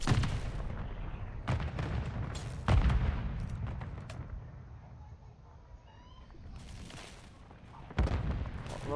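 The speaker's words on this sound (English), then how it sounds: "Hunter getting some good shots on Yasad." Gunfire in a Call of Duty Search and Destroy league match: sharp shots and booming impacts burst out at intervals over a steady game background, with a few louder blasts standing out.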